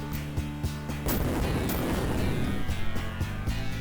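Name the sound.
dynamite explosion breaking rocks in the video game Comix Zone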